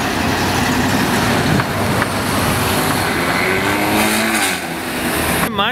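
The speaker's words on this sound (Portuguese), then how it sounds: "Ford Mustang," A fourth-generation Ford Mustang at a sports car gathering on Praça Espanha rolls past close by, its engine a loud, continuous drone that fades slightly near the end.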